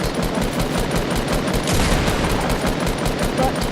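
Rapid gunfire in the video game Fortnite on PC, a dense run of quick repeated shots firing continuously at close range.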